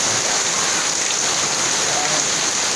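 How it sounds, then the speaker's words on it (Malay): A heavy downpour hisses steadily and loudly over the city of Lhokseumawe, a dense unbroken wash of falling water with no break. "Inilah dia hujan yang semakin deras."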